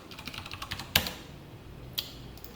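Keys pressed on a computer keyboard while coding a JDBC text board program, a few soft scattered taps with one sharper louder press near the middle and another around two seconds, alone in a quiet room.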